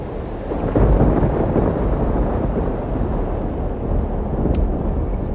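A thunderstorm in the video game Life is Strange: Double Exposure rumbles as a steady, loud low roar of thunder and wind-driven rain, continuous throughout with no voices.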